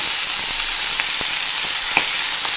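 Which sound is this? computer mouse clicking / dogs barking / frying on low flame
frying on low flame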